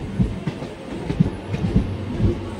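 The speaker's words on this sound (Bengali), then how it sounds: "সাউথ হল্টে ঢুকলো আমাদের ট্রেন।" An EMU local train on the Katwa–Burdwan line rolls into a small halt station, its wheels beating out a steady, rhythmic clatter over a low rumble, close and fairly loud, with no voices.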